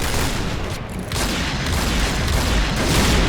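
Explosions and gunfire in the shooter game Point Blank, a loud, continuous broadband blast and rumble with a brief dip near the start, no voices.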